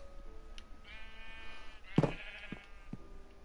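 A sheep bleats once loudly and close, a short wavering cry, with a few fainter animal calls and soft background noise around it.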